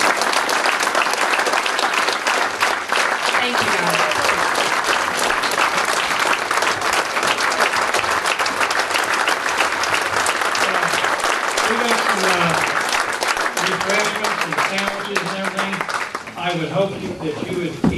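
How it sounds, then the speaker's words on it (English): Sustained loud applause from a crowd fills the whole stretch, dense clapping with a few voices and cheers rising near the end. "I would like everyone to give the Democrat Party a round of applause"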